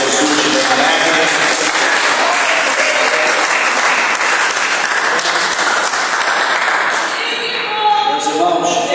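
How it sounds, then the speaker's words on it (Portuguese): A church congregation gives a loud, sustained round of applause for Jesus, thick continuous clapping filling the room throughout with faint voices mixed in underneath. "Quem pode dar uma salva de palmas para Jesus de alegre?"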